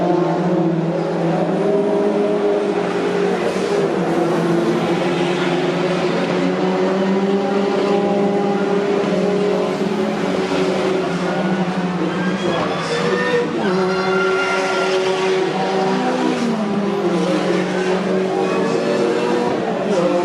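Turbo touring cars racing at Donington Park, engines roaring continuously at full volume as the pack descends toward a corner, with gear changes and shifting pitch throughout.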